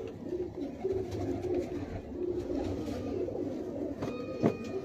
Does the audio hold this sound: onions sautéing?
no